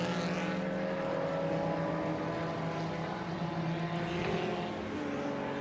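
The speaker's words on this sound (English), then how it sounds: "Listen to the grunt of that engine." A racing car engine drones past at a distance during DTM Classic qualifying at the Red Bull Ring, its pitch rising and falling in a steady, throaty growl.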